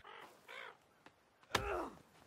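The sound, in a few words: bird (crow) in the video game The Forest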